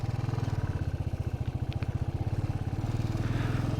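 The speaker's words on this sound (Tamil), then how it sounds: "வண்டி ஏற மாட்டேங்குதுங்க." Royal Enfield Himalayan motorcycle straining up a steep mountain road at about 12,000 feet in the Himalayas, its single-cylinder engine thumping in a steady, loud, close pulse throughout, labouring under load.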